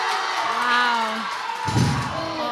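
Spectators cheering and shouting at a USA Powerlifting meet, the Titan Barbell Open, during a lifter's attempt: a broad, steady roar of crowd noise with whoops, and a loud commentator's voice talking over it near the end.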